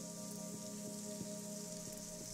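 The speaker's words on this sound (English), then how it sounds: "My ears are being trained right now listening to the raindrop" Rain and raindrops fall steadily, a constant bright hiss over a looping musical bed with regular soft beats, no talking.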